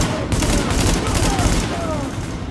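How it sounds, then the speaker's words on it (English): Sustained M4 rifle fire in the video game The Division, a dense, loud, continuous fusillade of rapid shots filling the whole stretch without a break. "I'm gonna use the M4 because we've got a lot of ammo in there"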